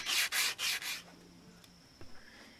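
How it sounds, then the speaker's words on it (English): Coarse sandpaper rubs the edges of a wooden cruiser skateboard deck in four steady back-and-forth strokes, close and loud, then stops and leaves a quiet room. "smooth off the edges with sandpaper"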